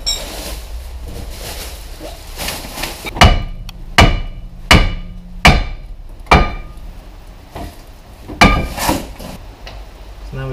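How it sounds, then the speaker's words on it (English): Heavy metal hammer blows strike the front brake disc of an MK6 Ford Transit, roughly eight loud ringing metallic impacts in an uneven rhythm, close up, with no talking. "So it's hammer time"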